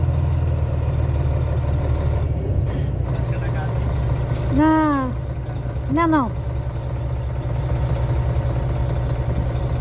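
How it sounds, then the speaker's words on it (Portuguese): A heavy truck rumbles steadily on a Brazilian road, its low engine drone loud and continuous throughout, while voices talk over it and a horn-like tonal sweep rises briefly near the middle. "E vem vindo caminhão lá, Pri."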